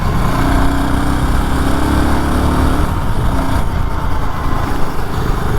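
A BSA Gold Star motorcycle runs through country lanes at around 45 to 50 mph, its engine a steady close rumble mixed with wind roar, easing off slightly partway through.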